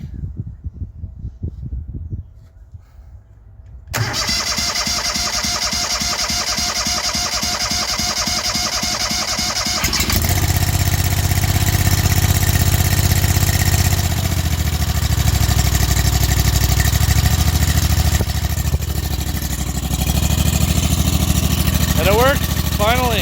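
A rebuilt Honda GX690 engine turns over and catches after a few seconds of quiet, then settles into a steady, loud, close idle that runs for about twenty seconds.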